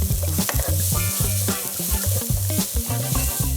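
Grated carrot and celery, with onion, gently sweating in a pan for a spaghetti bolognaise, with steady soft sizzling under repeated stirring and scraping clatter throughout.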